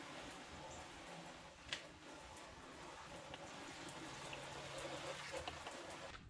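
Water from a hand pump sprayer rinses a car surface freshly coated in Meguiar's ceramic wax, a steady close hissing spray with faint splashing and a brief tap near the start.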